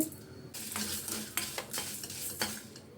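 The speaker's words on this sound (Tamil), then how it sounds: "பொரியுது பாருங்கள் வெந்தயம் கொத்தமல்லி எல்லாம் போதும்" Fenugreek and coriander seeds dry-roasting in a kadai, with bursts of scraping stirring and a light crackle, close and fairly loud, no voices.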